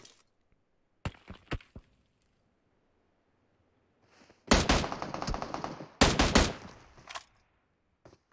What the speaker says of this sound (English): So he decides to take some shots at XM